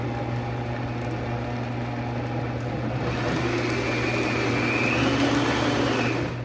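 A kitchen blender whirs through oatmeal pancake batter, a continuous loud motor drone with a steady hum that grows a little harsher and rougher partway through.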